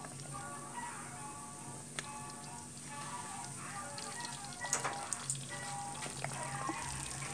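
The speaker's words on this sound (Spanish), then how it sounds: "Así de esta manera vamos a freír nuestra milanesa." A breaded milanesa frying in hot oil, a soft, steady sizzle with scattered small pops and spatters, fairly quiet and without voices.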